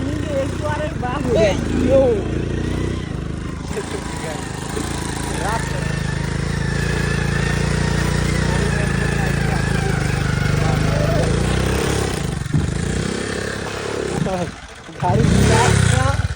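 A motorcycle engine drones steadily as its wheels spin in sand on a sandy field, a sustained mid-level motor hum with revving near the start and a brief drop near the end, while people talk over it.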